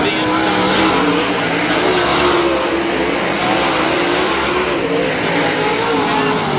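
Race cars roar through turns one and two at a Salina oval race, a loud, continuous engine drone with dense high-revving noise throughout.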